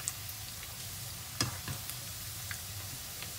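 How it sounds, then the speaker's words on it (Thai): Thai fried fish balls deep-frying in hot oil at a street-food stall, a steady close sizzle and crackle with a couple of sharper pops, no voices. "เฮาสิทอดให้มันกรอบๆเลย"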